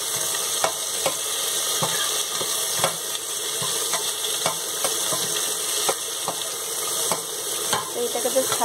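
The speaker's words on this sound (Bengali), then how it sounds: "তো এটাকে বেশ হালকা করে ভাজবো।" Onion frying in a pan, a steady hiss and sizzle with repeated light scraping taps of a utensil stirring at an even pace.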